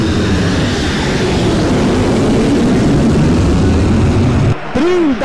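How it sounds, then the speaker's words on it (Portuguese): A Webjet airplane roars over a stadium in Pro Evolution Soccer 6, a loud continuous engine drone filling the scene before cutting out briefly near the end. "Olha o avião da Webjet informando o tempo."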